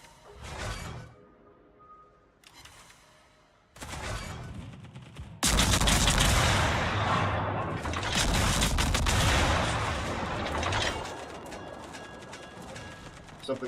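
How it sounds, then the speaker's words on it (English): Gunfire hits the player's ship in the naval video game World of Warships. Scattered faint shots give way to a loud, sustained barrage of rumbling blasts that gradually eases off. "Something is shooting at me from the back there."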